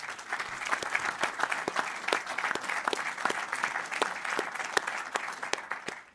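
A crowd at a live outdoor sailing event broadcast from the Cité de la Voile Éric Tabarly applauds, moderately loud clapping with distinct individual hand claps standing out from the steady patter throughout.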